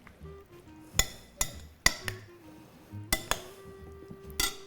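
Large spoon mixing pasta salad with melon and rocket in a bowl, with a handful of sharp clinks of metal against the bowl spaced irregularly over soft scraping and stirring, close and fairly quiet.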